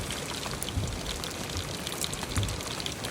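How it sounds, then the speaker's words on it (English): Heavy rain pours steadily on public land during an October archery hunt, a dense, close hiss of drops with scattered louder patters and no talking. "It's really raining."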